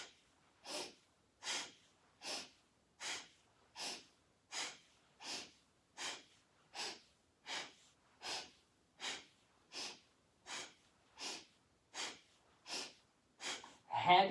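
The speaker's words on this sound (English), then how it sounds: "Inhale, exhale." Paced breathing during a spinal reset exercise, a long run of steady breaths in a slow, even rhythm at about one every three-quarters of a second, close and soft with nothing else audible.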